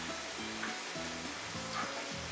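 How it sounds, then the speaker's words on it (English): Chicken sizzles in a hot grill pan skillet, a constant close frying hiss with a rhythmic low pulsing tone repeating underneath. "we have a nice little grill pan going here. You can see the sizzling"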